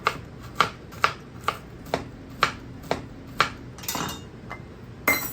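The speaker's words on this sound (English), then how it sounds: "Next up, we're going to chop some pecans" Knife chopping pecans on a cutting board, close and steady, about ten evenly spaced crisp taps, then a brief scraping shuffle and one last chop.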